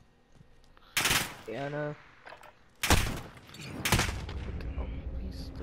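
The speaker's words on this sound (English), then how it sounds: "How does his gun shoot way faster than mine?" Bursts of automatic gunfire in the Modern Warfare shooter come in three loud volleys separated by gaps, with a voice speaking briefly between them.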